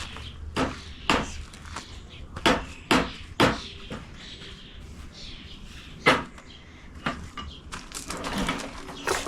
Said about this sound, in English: The hammering in the background that you hear is my husband building my roof for my stump in my fairy garden